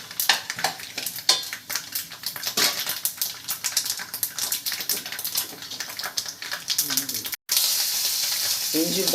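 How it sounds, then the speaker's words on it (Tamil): Mustard seeds, chana dal and peanuts frying in oil for lemon rice give a busy, crackling sizzle full of rapid pops and spatters, close and loud, with a brief cut near the end. "ஏன்னா இந்த கடலைப்பருப்பு வேர்க்கடலாம் நல்லா ஃப்ரை ஆனதுக்கப்புறம் கடுகு சேர்த்துட்டு"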